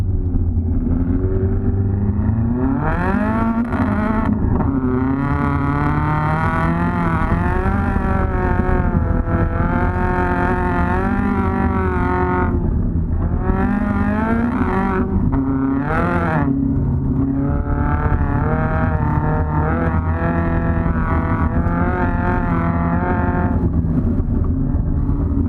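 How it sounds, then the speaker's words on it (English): A rally sprint car revving and accelerating hard, its engine note climbing and falling through gear changes, loud and close for the whole stretch with no talk. "as soon as you hit the gas, the car will rotate, and then you just hook right up and go"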